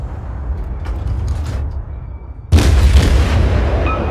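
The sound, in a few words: naval artillery fire in World of Warships video game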